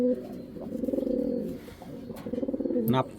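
Nearby pigeons coo in short, throaty, rolling phrases, close and fairly clear, with a brief sharper sound at the end.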